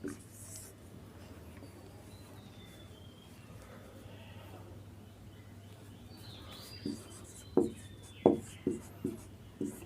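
Chalk or marker scratches across a board as a sentence is written, a quiet hum at first, then a series of short, sharp strokes in quick succession toward the end.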